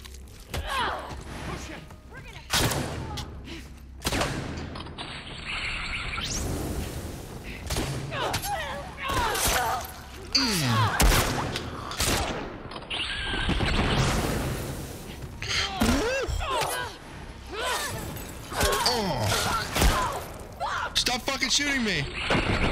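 Gunfire from enemies shooting at the player in The Last of Us Part II, on No Return mode. Dense volleys of shots and loud impacts keep coming in bursts, with crashes and clatter between them and a player talking over parts of it.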